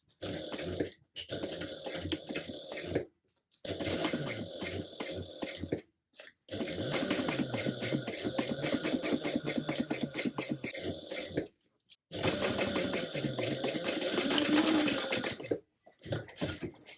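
A sewing machine stitches a tote seam at 3/8 inch allowance in rapid, steady mechanical runs of several seconds each, broken by brief pauses, close and fairly loud, with no talk.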